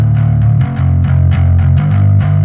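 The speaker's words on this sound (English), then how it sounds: "So if you select the switch A, I'm just adding a distortion" Electric guitar through an amp model with a distortion pedal added, loud gritty chords strummed in a quick rhythmic pattern, close and alone.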